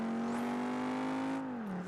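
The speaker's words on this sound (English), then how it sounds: "Sounds really good though. Really nice engine though." A race car engine holds a loud, steady, high whine in Project Gotham Racing 3, then drops slightly in pitch as the revs ease near the end.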